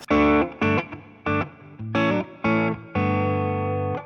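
Electric guitar through a Blues Breaker overdrive pedal plays a series of distorted chords and riffs in short bursts, then finishes on one long sustained chord, loud and close with no talking.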